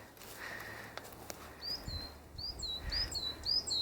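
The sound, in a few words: birds chirping in larch trees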